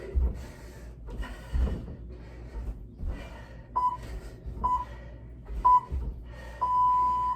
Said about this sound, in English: We're again gonna ignore the timer for a second. It's gonna keep beeping while I talk.